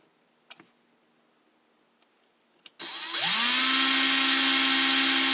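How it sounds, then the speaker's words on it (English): A few quiet clicks, then a drill spinning a polishing pad for a Ruger SP101 trigger job whirs up to speed with a rising pitch and keeps spinning steadily and loudly. "Put it in your Dremel tool or your drill, like I said previously. In this case, I'm using a drill"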